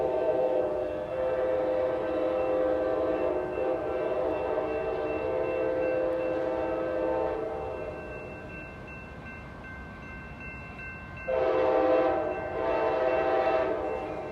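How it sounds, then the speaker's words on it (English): An Amtrak San Joaquin passenger train arriving at Oakland station sounds a loud, sustained multi-tone horn, pauses briefly amid rumbling, then blasts the horn again; no one speaks. "Amtrak train number 716, northbound San Joaquin. It's making its way here in Oakland Station."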